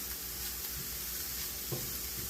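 Fried cabbage and potatoes sizzle steadily in a pan as they are turned, a close, even crackling hiss with a few soft scraping thumps from the stirring.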